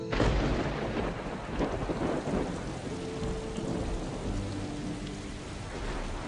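Thunderstorm with heavy rain, a dense steady roar of downpour under deep rolling thunder that booms loudest at the start and keeps rumbling, close and loud throughout with no talk.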